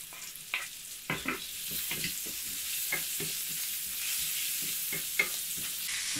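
Red prawns fry in a pan with golden garlic and chili, a steady sizzle with bursts of crackle and a few stirring scrapes, close and unaccompanied by speech.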